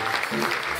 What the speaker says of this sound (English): Ain't nobody clapping but me.